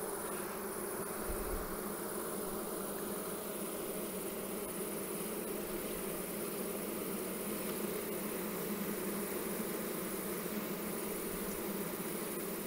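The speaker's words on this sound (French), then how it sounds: "Quand il y a beaucoup d'abeilles comme ça" Honeybees swarming around an open hive, a dense continuous drone of many wings, steady and close without any talk.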